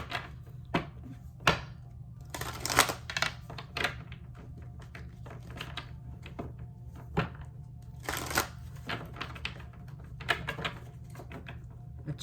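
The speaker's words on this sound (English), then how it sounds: "Let's shuffle." Tarot cards are shuffled by hand in a quiet room, producing soft, irregular riffling and tapping bursts. Brighter flurries of card slaps come every second or so, with no talking.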